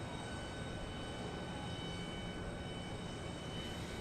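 A Southwest Airlines jet arriving from Austin approaches Dallas Love Field, a faint, steady distant engine rumble with a thin whine on top, continuous and unchanging throughout.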